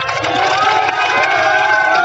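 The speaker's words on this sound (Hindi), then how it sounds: "उसकी तालियां बनती हैं" A large crowd at a political gathering in Udaipurwati, Rajasthan, claps and cheers in a steady roar of applause that holds throughout, with shouts rising from the mass.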